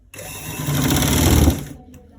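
A sewing machine stitching around a V-neck runs in a fast, loud, close mechanical whir for about a second and a half, then stops abruptly.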